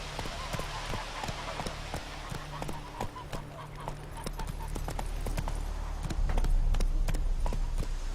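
Horse hooves clip-clop at a steady gallop across the open world of The Witcher 3, a rhythmic run of close, even beats over a low ambient bed with brief speech mixed in.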